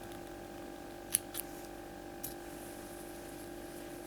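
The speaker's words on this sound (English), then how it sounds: "snip that off there." Scissors snip crochet yarn while finishing a child's granny-stitch slipper: a few quick, faint clicks, one sharper cut followed by two softer ones, over a steady quiet room hiss.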